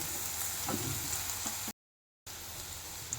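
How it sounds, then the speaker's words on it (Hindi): Onions frying over low heat in a kadhai, a steady soft sizzle with faint crackles throughout, interrupted by a brief silent gap before the hiss resumes. "सो प्याज ऑलमोस्ट भुन गए हैं।"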